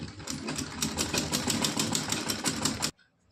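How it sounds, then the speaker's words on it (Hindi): A sewing machine stitches gota ribbon onto a small cotton dress, running in a fast, even mechanical rattle for almost three seconds, then stopping abruptly into near silence. "इस तरह से सिलाई डाल लेंगे पहले"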